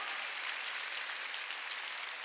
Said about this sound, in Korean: 깨달은 사람 박수 치라니까.